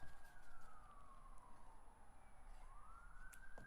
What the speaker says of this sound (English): there's a police car going by in front of my house